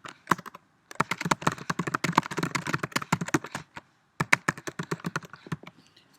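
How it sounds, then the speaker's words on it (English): Loud, close typing on a computer keyboard: quick bursts of clacking keystrokes, a brief pause, then another rapid run of sharp taps, with no voice over it. "if my typing sounds like hyper loud, by the way, on these videos"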